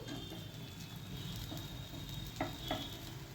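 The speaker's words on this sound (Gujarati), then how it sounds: "આપણે ટાકોઝની બંને સાઈડ એકદમ સરસ બ્રાઉન થઈ જાય ત્યાં સુધી આપણે શેકી લેશું" Potato tacos made from leftover rotli roast in ghee on a griddle, giving a faint, steady, close sizzle with a couple of soft clicks near the end and no talking.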